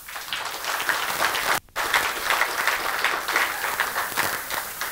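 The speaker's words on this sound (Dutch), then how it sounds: "Mag ik van jullie allemaal een harte applaus." An audience at a Dutch-language political party signing event bursts into warm, sustained applause, a dense, even roar of many hands that drops out for an instant and then carries on strongly.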